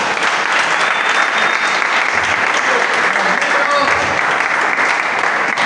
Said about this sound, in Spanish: Deben ese aplauso al Rey.